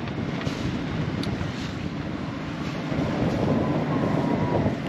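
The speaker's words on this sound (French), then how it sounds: "Donc ça rafale pas mal." Gusty wind sweeping across the microphone at sea near Kefalonia, Greece: a loud, continuous roaring buffet with low rumble, swelling stronger toward the end, and no voices.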